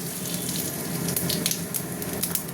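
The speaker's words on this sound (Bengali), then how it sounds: "তেল গরম হয়ে গেছে, গোটা জিরে আর একটা তেজপাতা দিয়ে দিলাম" Whole cumin seeds and a bay leaf sizzle in hot oil, a steady close hiss with small crackling pops running throughout, no voices over it.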